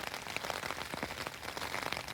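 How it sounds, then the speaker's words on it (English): Rain pouring off the lid of a vent on a Stormgrotta 2P tent, a steady close patter and splash of water running continuously with no talk. "The rain is pouring off that vent's lid."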